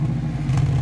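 A 4-cylinder tuner car with a turbo-back catback exhaust idles just after starting, giving a steady, fairly loud, higher-pitched drone with a slight swell near the end.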